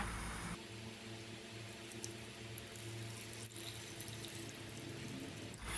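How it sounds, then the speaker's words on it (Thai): Steady pouring and splashing of limewater over mango slices in a container, a continuous watery rush close by with no talking. "เทน้ำปูนใสให้ท่วมมะม่วงเลยนะคะ"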